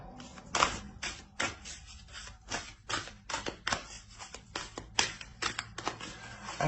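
Oracle cards being shuffled and laid down on a table: a quick, uneven series of crisp snaps and taps at close range, with no talking.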